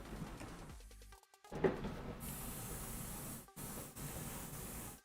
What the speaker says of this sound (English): I'm using the airbrush to just spray air on it so that it finishes drying